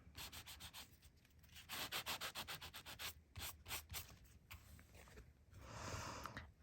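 Metal tape laid over texture paste is buffed by hand in quick, rhythmic rubbing strokes, a close, dry scratching that speeds up, pauses briefly, then ends in a longer smooth swipe.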